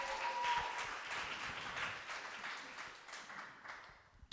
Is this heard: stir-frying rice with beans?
no